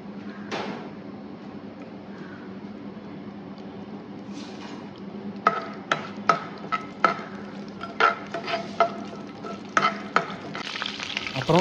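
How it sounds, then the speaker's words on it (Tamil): Cinnamon, cloves, cardamom and bay leaf fry in about 100 ml of oil in a pan for mutton paya kurma, with a steady close sizzle broken by a run of clinks and scrapes from stirring. "அப்புறம் ஒரு பேனில் 100 ml ஆயில் போட்டுக்கலாம். போட்டு அதில் பட்டை கிராம்பு, ஏலக்காய்,"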